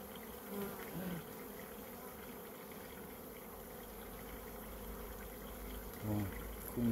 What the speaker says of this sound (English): Because the other bee came out of the way.